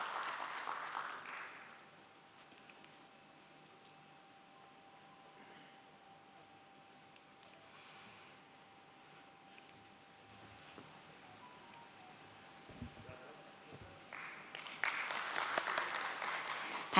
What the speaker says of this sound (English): Let's have a huge round of applause for him, please.